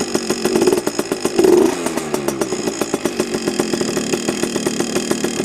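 A heavily modified Yamaha PW80 dirt bike with an FMF exhaust idles up close, a loud, uneven two-stroke putter with a couple of brief blips of revving near the start.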